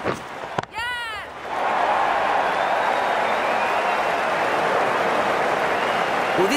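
A stadium crowd in the cricket video game Cricket 19 roars with cheering and applause, swelling quickly after a brief sharp sound and then holding at a loud, steady level.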